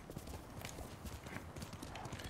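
Horse hooves gallop in a quick, continuous clip-clop rhythm in the Ghost of Tsushima video game. The sound stays faint and even throughout, without a break.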